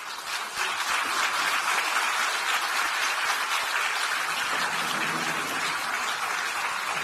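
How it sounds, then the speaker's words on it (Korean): A crowd at a party gathering applauds the two newly elected candidates for National Assembly speaker and deputy speaker with sustained, dense, even clapping from many hands, steady for several seconds with no voices over it. "선출되신 두 분께 여러분 다시 한번 큰 박수 부탁드리겠습니다"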